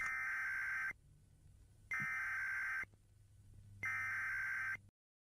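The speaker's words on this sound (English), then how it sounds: "Emergency alarm system, country issue, weather warning for your area." A Local 58 emergency alert tone sounds as three loud, evenly spaced buzzing blasts of about a second each, with brief silent gaps between them, before cutting off.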